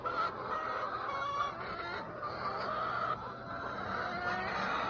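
Chickens with a small young rooster among them in a farmyard, clucking and chattering continuously at moderate distance over a steady background bed, no clear speech.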